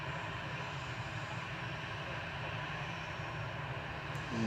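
Airliners, including Virgin and Ryanair jets, taxiing at Manchester Airport, heard as a steady, broad engine roar and whine from a moderate distance, continuous and unbroken throughout with no talking.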